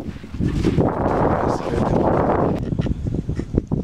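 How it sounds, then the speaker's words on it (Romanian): Strong, steady wind buffeting a microphone, a dense low rumble with gusts that ease slightly toward the end, no voices. "Asta e că bate foarte tare vântul."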